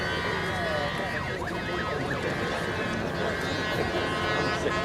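Fire engine siren at an airshow on a grassy airfield beside the runway, a steady wavering wail running through the whole stretch under a constant crowd and wind background.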